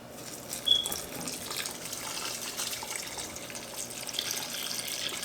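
Tap water gushes steadily into a cooking pot for turkey neck noodle soup, a continuous splashing, hissing pour heard up close without any talk.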